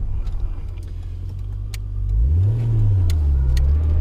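A Nissan Skyline R34 engine drones while driving, heard from inside as a low steady hum that rises in pitch partway through as the car accelerates, then holds at a stronger rumble.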